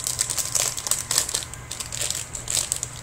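Small scissors snip and crinkle through a Fun Gums candy packet from a British candy box, giving a close series of crisp plastic crunches in an irregular rhythm.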